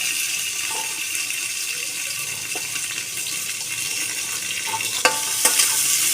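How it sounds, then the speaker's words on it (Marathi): Chopped onion sautéing in a pan for pulav, a steady hiss of frying with a few light utensil taps and scrapes, sharper clinks near the end. "कांदा परतून घ्यायचा"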